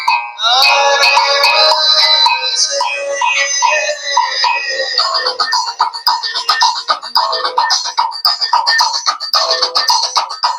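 A Karbonn K9 keypad mobile phone playing music through its loudspeaker, a bright, thin melody with rhythmic beats heard close and fairly loud, without any talking.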